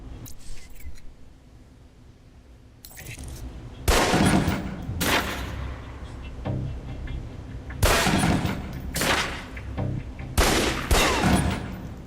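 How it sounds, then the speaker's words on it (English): Pistol shots ring out at a target range in Alpha Protocol, several sharp cracks arriving in small clusters after a quiet start, with metallic clinks between volleys. "Equip the pistol, then aim down range and take some shots at the target."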